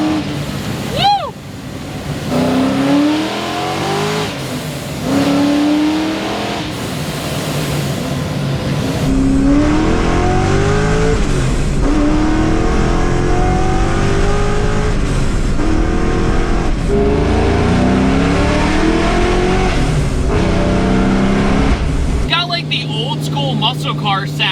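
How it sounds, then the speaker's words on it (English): A 5-liter Mystic Cobra muscle car gives a deep, throaty growl while driving, rising and falling through repeated revs and gear changes, loud and close, with voices talking over parts of it. "It's got a deep, throaty, hollow growl like a Terminator Cobra, but it's a 5-liter."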